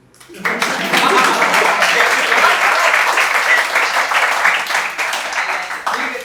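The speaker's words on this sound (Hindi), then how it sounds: "बजाओ ताली।" Audience applause at a Hindi poetry performance, a dense wash of clapping that swells in quickly and holds steady and loud for several seconds before easing slightly at the end.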